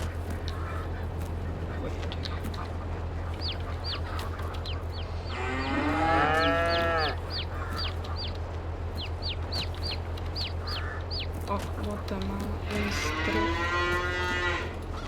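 Cattle in Farming Simulator 22 give two long, loud lowing moos over a steady background hum, with scattered clucking from game chickens throughout.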